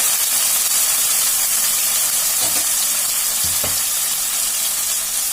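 Mustard paste hits a hot pan of rui fish curry and sizzles loudly, a steady close frying hiss with a couple of soft stirring scrapes.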